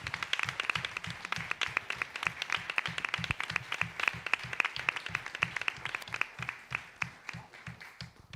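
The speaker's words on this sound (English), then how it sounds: "Please join me in giving a heartfelt round of applause" At a school board meeting, a small audience claps steadily in sparse, distinct claps for a retirement honor, quiet and somewhat distant, with no one talking over it.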